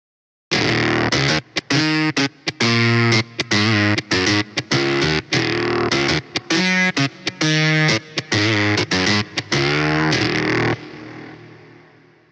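A heavily distorted synthesized guitar lead made in Serum plays a choppy, staccato line of sustained buzzing notes, then rings out into a fading reverb tail.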